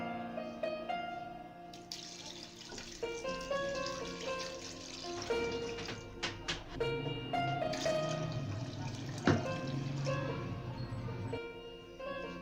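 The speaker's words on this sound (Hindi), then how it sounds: "अब इसके अंदर हमने 2 लीटर पानी डाल दिया है।" Two litres of water pour into a mutton yakhni pot, a splashing, gurgling stream with uneven surges and clinks, fairly quiet and close, with no talking.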